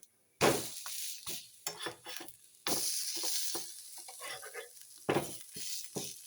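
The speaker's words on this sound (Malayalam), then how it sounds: "ഇനി നമുക്ക് ശകലം എണ്ണ ഈ സൈഡിലോട്ടൊക്കെ ഇങ്ങനെ ഒന്ന് ആക്കി കൊടുക്കണം" Oil poured around the sides of a snack frying in a pan crackles into a sharp sizzle, loud and close, with stirring and scraping bursts between quieter moments.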